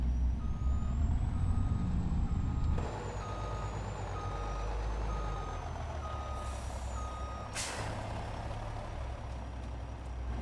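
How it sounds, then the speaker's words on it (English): A dump truck in Farming Simulator 25 backs up with a steady series of evenly spaced reversing beeps over a loud, rumbling idling diesel engine, with a brief hiss of air release near the end. "go on and back the dump truck out"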